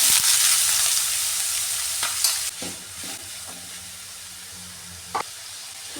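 Sliced onions sauté in hot coconut oil in a pan, with mustard seeds added just before. A steady, close frying sizzle with hiss and brief stirring scrapes runs throughout, with no talk.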